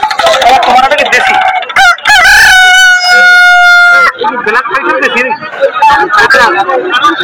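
At a busy village poultry market selling chickens and fighting roosters, one rooster crows loudly and close in a long drawn-out call. Clucking and the steady chatter of many people surround it.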